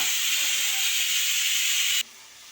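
A loud, steady hiss of escaping steam from a pressure cooker whistle, cooking raw papaya sambar, runs for about two seconds, then cuts off abruptly.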